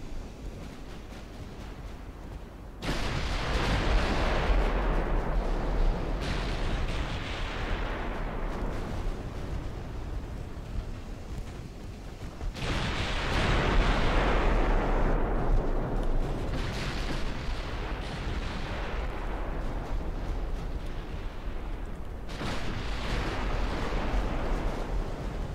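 Naval gunfire in Ultimate Admiral Dreadnoughts, with warships of a British 1900-era campaign firing: four heavy booming salvos, each rolling out into a long fading rumble over a low wind-and-sea bed.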